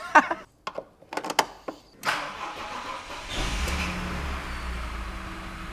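A BMW E39 530i Touring, converted to a manual, cranks with a few short clicks and whirs, then catches and settles into a steady, close idle.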